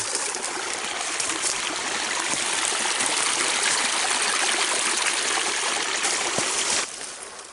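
A woodland stream in early October, running high, rushes as a steady, loud, close wash of flowing water throughout, easing slightly near the end.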